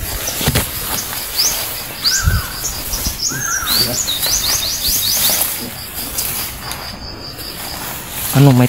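Small birds chirp and trill in quick repeated bursts over steady outdoor background noise, moderately close, with people talking nearby.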